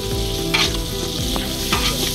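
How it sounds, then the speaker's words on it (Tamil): Tomatoes fry and sizzle in a pan while being stirred, with a steady crackling hiss and repeated scraping strokes of a utensil close by. "இனி ரெண்டையும் நல்லா எல்லாத்தையும் சேர்த்து நல்ல ஒரு மிக்சிங் பண்ணிக்கலாம்."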